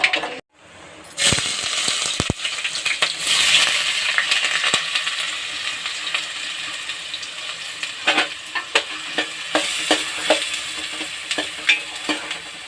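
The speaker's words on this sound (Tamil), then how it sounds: "குழம்புக்கு அரிசி சூடாயிட்டு கடுகும் வெந்தயமும் போட்டுக்கலாம்." Mustard and fenugreek seeds sizzle and pop in hot oil with a steady crackling hiss, sharp little spits and a few clinks of stirring throughout.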